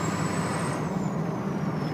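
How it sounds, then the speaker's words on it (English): From inside the cab of a diesel truck fitted with a KC-10 turbo blade, a steady engine drone runs under a thin, high turbo whistle that slowly drops in pitch. "here's what the turbo sounds like with the KC-10 blade"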